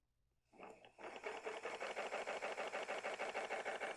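An EEW Mini electric spinning wheel spins up, its motor starting after a brief quiet and settling into a close, steady whirring hum with a regular rapid pulsing, alone without speech.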